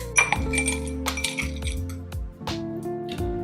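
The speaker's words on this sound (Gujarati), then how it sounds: "ગ્લાસમાં અને એમાં બરફ નાખી દઈશું" Ice cubes drop into a glass holding fennel sharbat premix, several bright close clinks and knocks landing one after another with ringing glassy tails.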